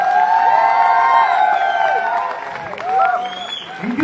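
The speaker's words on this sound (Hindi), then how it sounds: "यस, जोरदार तालियां होनी चाहिए एवरीबॉडी" A seminar crowd in Delhi bursts into loud applause mixed with cheers and whoops, voices calling out over the clapping that swells and dips across the moment.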